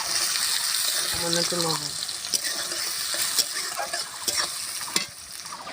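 Cumin, two bay leaves and chopped onion fry in mustard oil for chicken kasha, with a steady, close sizzle and stirring throughout while a voice speaks briefly over it.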